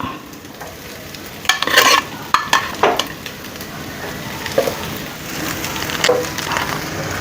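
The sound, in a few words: stir-frying egg fried rice in a pan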